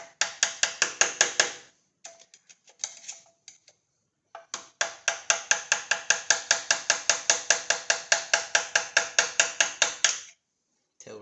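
Rapid, evenly spaced sharp taps as a wide crank kit part is knocked into place by hand. Two bursts of close, crisp metallic knocks are split by a short pause with a few scattered hits.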